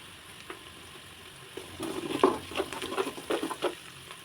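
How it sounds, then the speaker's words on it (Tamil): Onions frying in oil with salt in a large pot for tomato thokku: a steady low sizzle with scattered crackles and a few stirring scrapes that build in the second half, close and moderately loud. "நல்லா வணங்க விட்டுருங்க வெங்காயம்."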